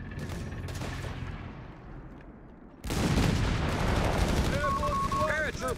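Rapid gunfire and explosions in a Company of Heroes 3 beach landing battle on an Italian map, dense and loud, swelling sharply midway, with game voice callouts and bleeps layered over the combat.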